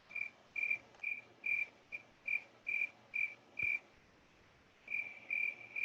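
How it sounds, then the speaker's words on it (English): Crickets chirp in short rhythmic bursts, about a dozen evenly spaced trills with one brief pause, clear and fairly quiet with no voices. "Do you need some crickets?"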